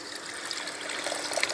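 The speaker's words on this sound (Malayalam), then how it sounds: "വെള്ളം ഒഴിക്കുക" Water pours steadily into a cooking pot while jackfruit seed fry is being made, a continuous close trickling splash with no voices.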